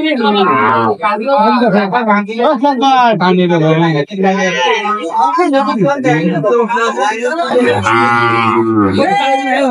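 Cows moo loudly and repeatedly at a cattle market in Dinajpur, long drawn-out calls close by, one after another with little pause.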